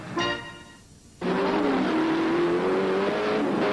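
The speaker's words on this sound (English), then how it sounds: "You are in car with Jeff Brabham. Watching Brabham work in the third position on the racetrack" A race car engine roars on the Del Mar racetrack, heard from inside the car during a 1989 race; after a brief dip the engine holds a loud, steady high-pitched drone with a rising tone, with no voices.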